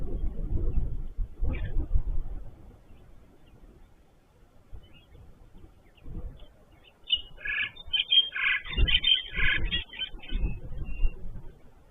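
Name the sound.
birds calling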